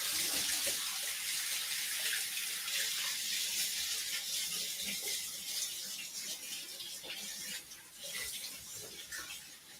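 A tap runs steadily while something is rinsed under it, a close, continuous splashing gush of water with small shifts in flow toward the end.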